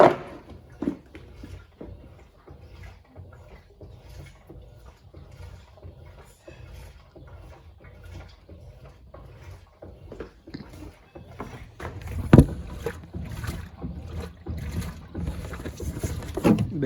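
An Electrolux LTC07 turbo compact 7kg washing machine runs quietly, giving a faint low churning with soft mechanical clicks and sloshing that grows somewhat louder near the end.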